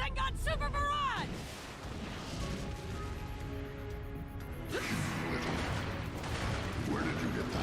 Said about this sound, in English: Rasengan Super Barrage!